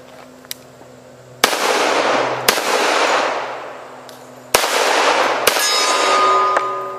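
Pistol shots ring out against a steel target post, with four sharp loud cracks at uneven gaps, each followed by a metallic clang that fades out.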